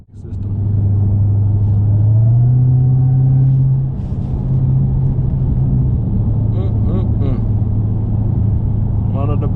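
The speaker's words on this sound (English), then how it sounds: "One of the best sounding superchargers on the market" A supercharged 2019 Dodge Challenger Hellcat Redeye engine gives a loud, deep, steady rumble that swells briefly as it revs, then settles back to a strong idle-like drone.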